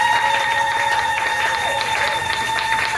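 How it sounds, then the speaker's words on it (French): A church congregation claps while sitting back down, a dense even patter of applause over sustained held musical tones. "Vous pouvez vous rasseoir en applaudissant."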